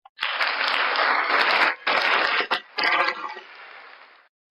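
Applause effect played from a V8 sound card, a loud dense patter of clapping from a crowd in three bursts with brief gaps, cutting off abruptly after about four seconds.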